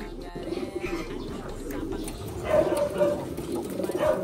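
Large pigeons coo softly in a few low, rounded calls over a busy background, while a person talks nearby.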